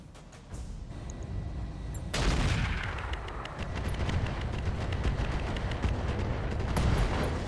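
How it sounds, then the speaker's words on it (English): A Gauss rifle blast and the resulting explosion in the RogueTech mech combat game, a heavy rumbling boom that swells into dense, crackling, sustained rolling blasts and debris, loud and continuous. "Gauss Rifle Blackwell explosion"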